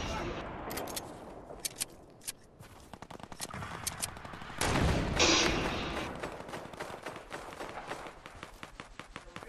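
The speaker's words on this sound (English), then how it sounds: "Kareem hit him with a rifle" Rifle gunfire in the video game Fortnite, repeated sharp shots in quick bursts over a busy mix of game noise, with a louder burst of blasts midway.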